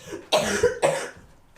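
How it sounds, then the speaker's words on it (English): A man coughs sharply twice in close succession, loud and near, the bursts ringing out against a quiet room with a faint extra sound at the very end. "He just coughed."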